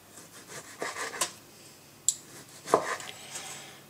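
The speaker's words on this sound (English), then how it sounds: "I'm going to get this tomato. Okay, and I'm going to cut it probably like about 1/4 inch thick" A knife cutting a tomato into quarter-inch slices on a board, a few separate soft thuds and taps spread apart, fairly quiet and close with no talk.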